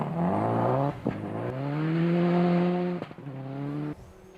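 A rally car on a tight, twisty, frosty stage of Rally Canterbury, its engine revving hard and dropping between gear changes and corners, close and loud as heard from on board.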